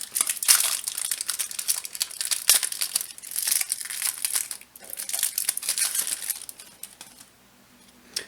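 A trading card promo pack's wrapper is torn and crinkled open up close, with dense crackling bursts for about seven seconds before it falls quiet near the end.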